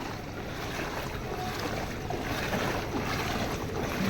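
After a single day of heavy rain, floodwater rushes out through opened drain line pipes, making a continuous loud roar that holds steady throughout with no voices.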